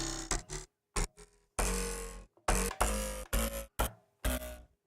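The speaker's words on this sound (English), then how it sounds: "and typewriter buzz." Short bursts of harsh, noisy typewriter buzz sound effect come in an irregular stop-start pattern, each lasting a fraction of a second to about a second, with silent gaps between.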